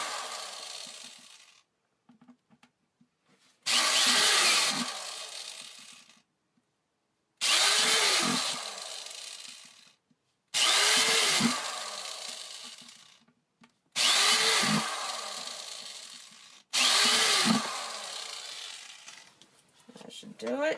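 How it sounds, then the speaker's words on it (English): A power drill bores small holes in a plant pot in five loud, separate bursts of whirring and grinding, each a few seconds long, with short quiet pauses between them. "I'm going to go ahead and put like 6 holes. Not very big holes, because this is the drill bit that was in here"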